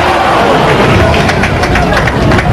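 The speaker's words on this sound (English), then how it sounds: "The oohs and ahs of the crowd" Spectators at a 1997 bowling tournament let out a loud, sustained swell of oohs and ahs, a dense wash of crowd noise mixed with voices and lane clatter.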